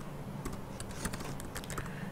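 Rapid keystrokes on a computer keyboard while structural analysis commands are entered in STAAD Pro software, irregular clicks close and clear over a steady low hum, no talking.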